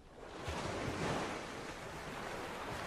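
Continuous rushing surf and water wash in a video game after the player spawns in water, steady and fairly loud throughout with no talking.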